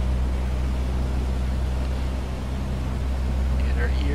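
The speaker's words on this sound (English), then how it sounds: "Hear the prop, engine pitch change." A Piper PA-28-180 propeller engine drones steadily inside a flight simulator game while the mixture is leaned, the hum shifting slightly in pitch; a voice talks over it.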